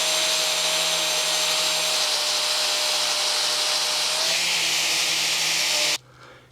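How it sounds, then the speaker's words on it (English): A power-driven wire wheel scours crud from the grooves of a pipe flange being prepared for a gasket, a steady loud abrasive whir with a high hiss that runs continuously for about six seconds, then cuts off abruptly. "So now I'll hit that with a wire wheel, kind of knock all that crud out of those grooves"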